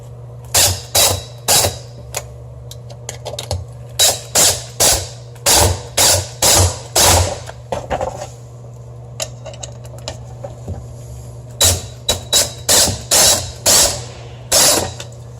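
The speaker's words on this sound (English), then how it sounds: "I'm going to screw it into that lath right there to give it a good hold." A screwdriver or drill drives screws through a drywall patch into old wooden lath, loud close ratcheting clicks in several bursts separated by short pauses.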